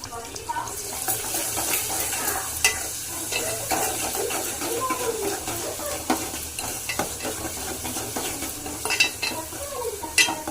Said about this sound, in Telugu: ఇట్లా ఉల్లిగడ్డలన్నీ ఉడకనిచ్చుకోవాలి